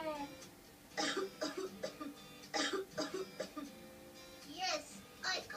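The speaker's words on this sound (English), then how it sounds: "Since evening, I'm coughing a lot." A sick person coughing at home: several short, faint cough bursts come in uneven clusters, with a voice sounding between them.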